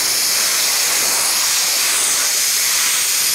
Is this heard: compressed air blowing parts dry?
yes